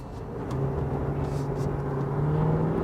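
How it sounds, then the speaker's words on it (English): A 2020 Ford F-250 Super Duty pickup truck accelerates. Its engine note rises and grows louder after a quiet start, a steady whirring drone heard from inside the cab. "And the acceleration of this truck is not lacking."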